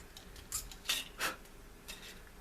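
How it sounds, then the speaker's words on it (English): A hobby knife carefully cutting a plastic part off the sprue of an XB-70 Valkyrie scale model aircraft kit, a few short, close scraping cuts spaced apart in a quiet room. "So what you must do is just take the knife and carefully try cut it off."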